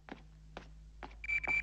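Doraemon's cartoon alarm gadget sounds three short electronic blips followed by a quicker pair of shrill beeps, clear against a quiet background.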